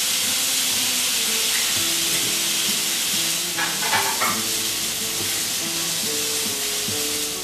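Artichokes set upside down in a very hot pan sizzle loudly and steadily, a close, continuous frying hiss with faint utensil clinks and low tones, no voices.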